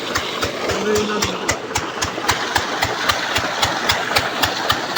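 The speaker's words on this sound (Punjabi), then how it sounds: "ਜਦੋਂ ਝੋਨੇ ਤੇ ਸਪਰੇਅ ਕੀਤੀ ਸੀ ਉਦੋਂ ਦਾ ਚੱਲਿਆ ਹੋਇਆ ਸੀ ਇੰਜਨ ਉਦੋਂ ਬਾਅਦ ਸਟਾਰਟ ਨਹੀਂ ਕੀਤਾ ਸੀ ਤੇ ਅੱਜ ਕੀਤਾ ਵਧੀਆ ਚੱਲ ਪਿਆ" A farm crop-spraying engine, last run for spraying paddy and started again after a long rest, idles steadily with an even, rapid thumping beat, close and fairly loud, with no talk over it.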